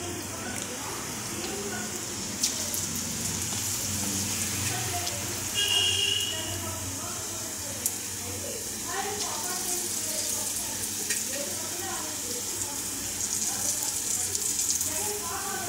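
Chilli fritters (mirchi bajji) fry in medium-hot oil with a steady soft sizzle and crackle, fairly quiet, bubbling throughout beneath a voice explaining the cooking.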